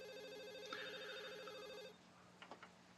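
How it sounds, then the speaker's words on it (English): A soft electronic mobile phone ringtone from the Katawa Shoujo visual novel plays as a steady repeating melodic trill for about two seconds, then cuts off, leaving a quiet background with a few faint clicks. "A familiar soft ringing begins to sound from Lily's side."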